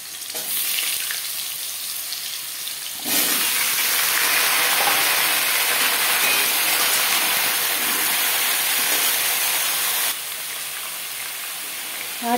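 Pumpkin pieces drop into hot mustard oil in a pan tempered with a dried red chilli and five-spice seeds, setting off a sudden loud, steady sizzle that carries on for several seconds before easing back to a quieter fry.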